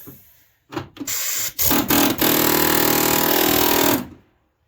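Air chisel fitted with a sheet metal cutter slicing through the steel rocker panel and cab corner of a Ford F-150 truck body: loud, harsh buzzing bursts, first short stuttering starts, then one sustained cut of about two seconds, close up with no talk.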